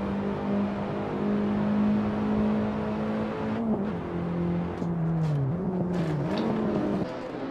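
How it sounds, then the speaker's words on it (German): A BMW Z4 race car in Assetto Corsa revs hard and holds a high engine whine, then the pitch drops and wavers as it overtakes, with a brief shift near the end. "da überholt uns der Z4 ohne Probleme"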